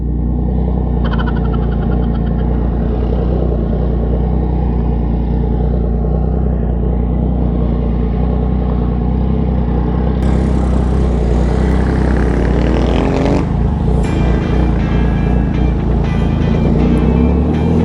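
A motorcycle engine drones loud and close throughout a ride, holding a constant heavy roar that rises in pitch partway through, with no talking.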